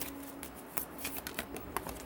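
Soft shuffling of tea leaf reading cards, a string of light papery flicks and riffles, quiet and close.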